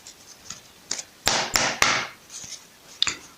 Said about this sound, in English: let me just give it one more shuffle